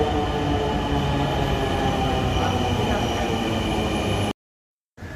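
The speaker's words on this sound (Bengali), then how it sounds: "এই তো মেট্রো রেল চলে এসেছে" A metro train rumbles and hums steadily close by as it pulls in, faint wheel squeal above, then the sound cuts out abruptly near the end.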